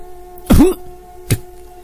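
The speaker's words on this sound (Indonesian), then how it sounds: "Jantungku seketika berdetak kencang manakala mendengar suara batuk serak dari sisi kiri." A hoarse cough sounds as an effect in a horror story narration, one rough, loud throaty burst followed by a shorter second cough over a low steady hum, with no talk.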